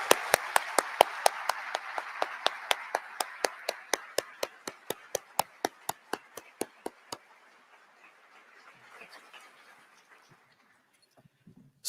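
Steady rhythmic clapping at a medical school white coat ceremony: a sharp, close handclap stands out over a softer crowd of applause, then everything fades to quiet near the end.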